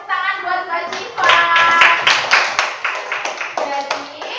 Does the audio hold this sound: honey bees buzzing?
no